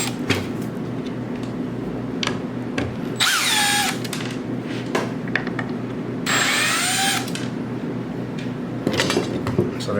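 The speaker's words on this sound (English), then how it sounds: "So I have my installation drill driver with a Phillips in it. We're just going to pop these slides off." A cordless drill driver fitted with a Phillips bit whirs in short bursts, backing screws out of broken drawer slides, with two longer rising whines standing out among quieter clicks and handling noise.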